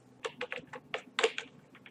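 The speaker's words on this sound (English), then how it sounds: "here you type troubleshooter" Typing on a computer keyboard on a Windows 7 PC: about a dozen light, close key clicks in an uneven rhythm, some struck in quick pairs, with no talking.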